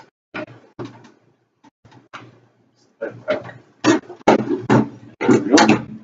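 A PC case back panel comes off after its two thumb screws are loosened, giving a series of short metallic clicks, scrapes and clunks that grow louder and denser toward the end, close and sharp.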